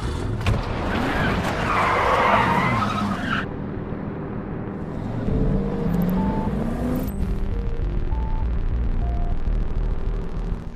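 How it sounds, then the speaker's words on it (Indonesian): A car accelerates hard with tires skidding and squealing, loud and close, its engine roaring before it fades as it speeds away under dramatic background music. "Iin langsung tancap gas untuk mendatanginya."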